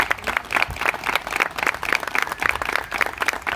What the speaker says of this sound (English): So please give everyone a big round of applause